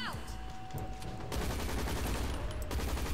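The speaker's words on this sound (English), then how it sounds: "let's throw a grenade" A grenade blast in the video game Hazrd Ops: after a quieter stretch, a loud, dense burst of crackling, gunfire-like noise hits and then rumbles on steadily to the end.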